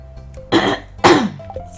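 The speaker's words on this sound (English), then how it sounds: "I'm so tickled I'm coughing." Two sharp, close coughs a half second apart, loud and throaty, with a faint hum in the background.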